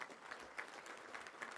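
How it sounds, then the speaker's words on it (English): Faint applause from a crowd, a soft patter of clapping at a distance that continues steadily. "that's worth a round of applause right there"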